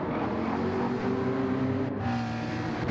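Race cars lap the Interlagos circuit in Gran Turismo 7, engines droning at a steady, fairly loud pitch with layered tones from more than one car, a brief dip in the high end midway.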